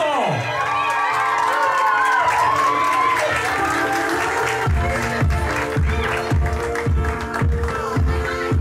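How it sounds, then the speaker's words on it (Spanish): A crowd applauds and cheers loudly at a quinceañera celebration, with whoops over the clapping, while music with a steady beat plays alongside. "¡Que se escuche el fuerte aplauso!"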